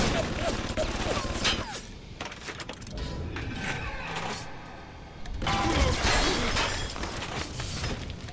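Gunfire and mechanical clatter in BioShock Remastered, loud bursts of shots with metallic impacts and rattles, easing midway before a renewed barrage.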